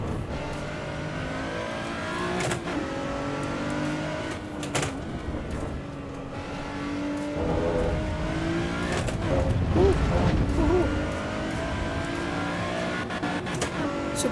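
A supercharged Toyota 2GR V6 engine revs and pulls through the gears in the racing game Assetto Corsa Evo at the Nurburgring, a steady mid-level drone that swells and falls while someone talks over it.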